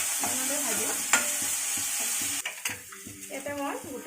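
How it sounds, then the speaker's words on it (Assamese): Ginger garlic paste frying with onions in a pan, a steady crackling sizzle broken by repeated scraping stirs and a couple of utensil knocks against the pot. "দি এইখিনি পিয়াজৰ লগত ভালদৰে ভাজি লওঁ"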